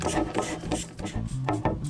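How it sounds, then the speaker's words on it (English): A screw is turned into a Crane camera gimbal, giving a short run of close, quiet, rhythmic scraping and grinding rasps. "So you screw it in like that."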